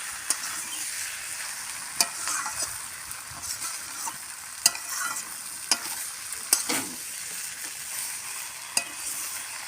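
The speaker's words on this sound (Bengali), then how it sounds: "আবারও আমি একটু চিংড়ি মাছ দিয়ে একটু কষিয়ে নেবো" Fried shrimp are stirred in a pan while jackfruit curry cooks: a steady close sizzle of frying with sharp, intermittent clicks and scrapes of a spatula against the pan, and no voices.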